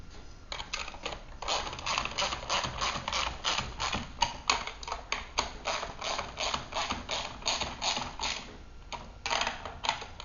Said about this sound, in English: you can go ahead and tighten up these bolts.